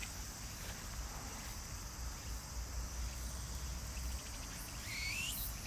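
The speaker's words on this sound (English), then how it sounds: "Cicada." Insects keep up a steady, dense high-pitched drone on a hot day in Tokyo, constant and fairly loud, with a brief rising whistle-like call near the end.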